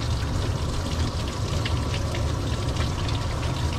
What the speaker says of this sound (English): Okay, so now we're gonna rinse.